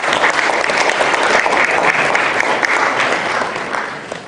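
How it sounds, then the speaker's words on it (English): An audience applauds panelists at a live event, a dense, sustained burst of clapping that fills the room for several seconds before tapering slightly. "Please give an applause for the two panelists."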